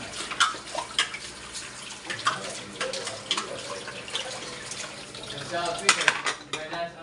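Dishes and cutlery clatter and clink irregularly in a sink, with water running steadily underneath, close by.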